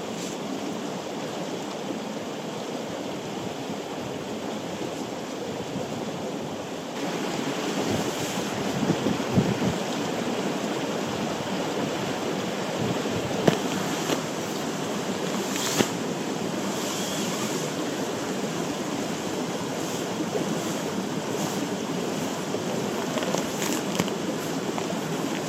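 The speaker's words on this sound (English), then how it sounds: "Found a cracking wee spot just beside the river, actually beside a lovely big pool" A river runs beside a wild camping spot in Donegal, next to a big pool, giving a steady, close rushing wash of water mixed with gusty wind buffeting, with no talking.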